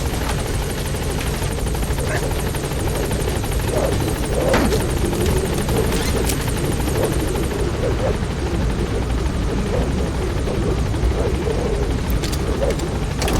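Continuous loud support helicopter rotor noise from the video game Metal Gear Solid V: The Phantom Pain, a dense chopping drone that holds steady throughout with faint voices briefly audible beneath it.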